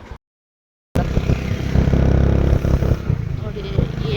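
A motorcycle engine runs steadily while riding, a loud continuous drone with road rumble after a brief silent gap at the start.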